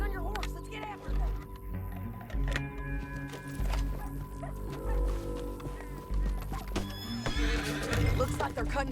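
In the video game Red Dead Redemption 2, a horse neighs and whinnies repeatedly over rhythmic hoofbeats, with in-game voices and ambient bird calls mixed in.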